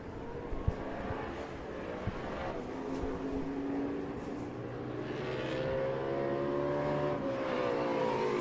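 Racing car engines whine and drone at a distance, pitch rising and falling as several cars pass at a racetrack, with a few sharp clicks early on.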